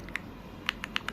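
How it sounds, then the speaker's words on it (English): Typing on an AULA F75 gasket-mounted mechanical keyboard with Leobog Reaper linear switches gives a short run of soft, quick, creamy keystrokes, close and quiet, irregularly spaced. "Leobog Reaper switch now. So smooth, linear, creamy, slightly talky"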